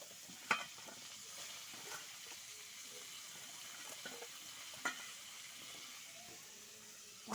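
Pointed gourd and potato pieces fry in oil in a pan, a quiet steady sizzle with a few sharp clinks of stirring and no talk.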